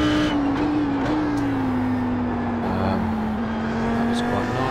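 Audi R8 GT3 race car in a racing video game on the Nürburgring Combined 24h layout, its engine a loud, steady drone that holds high and eases slightly lower as the car powers out of a corner, with someone commentating over it.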